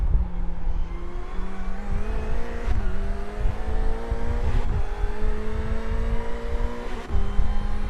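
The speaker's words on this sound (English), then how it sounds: "He hits the rev limiter at 6th gear" Race car engine in the iRacing sim during a 24 Heures du Mans endurance race, revving hard and steady near the limiter with brief dips at gear changes, loud and continuous with no talk.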